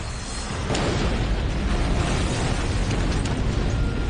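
Explosion at a large fireworks factory in Devon, England, as 18,000 pounds of explosives go off: a loud, sustained roaring blast with crackling bursts throughout.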